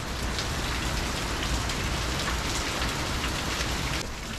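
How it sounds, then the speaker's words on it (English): Heavy hurricane rain during Hurricane Francine, a Category 2 storm, pours steadily onto surfaces outdoors, with a dense constant hiss and a low wind rumble beneath, unbroken for the whole stretch with no voices. "you can hear the rumble coming through the trees through that direction there"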